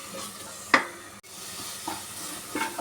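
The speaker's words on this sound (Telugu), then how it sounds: "పేస్ట్ ఈ పేస్ట్ బాగా వేగాలి మంచి పచ్చివాసన పోయే వరకు" Coconut and green chili paste frying in a pan while a spoon stirs it, a low sizzle under a few scraping clicks of the spoon, close and fairly quiet.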